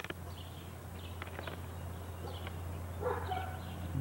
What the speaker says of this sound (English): And that's their dog.